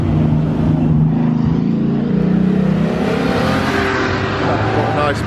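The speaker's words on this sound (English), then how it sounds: "Oh, that Porsche coming round there nicely." A Porsche drives past at a classic car speed festival, its engine droning loud and steady, with spectators talking over it.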